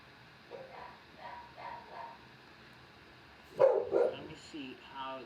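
Worked-up dogs bark through several soft, muffled yaps, then two sharp, louder barks ring out close together, followed by weaker trailing sounds.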